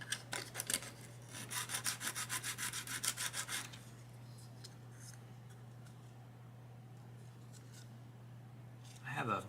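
Diorama material sanded by hand with quick back-and-forth rasping strokes for the first few seconds, close and fairly loud, then quieter scraping over a steady hum while a person talks.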